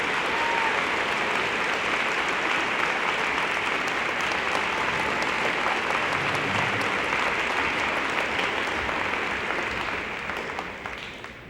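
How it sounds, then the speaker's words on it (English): Sustained applause from a large audience at a high school choir festival, steady dense clapping for the conductors that fades slightly at the end. "Can we please give those two fabulous conductors a round of applause?"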